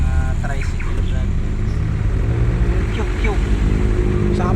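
Street traffic with motor tricycles in Iloilo: a continuous rumbling drone of small engines passing close by, with occasional revving and horn-like tones. A person talks over the traffic.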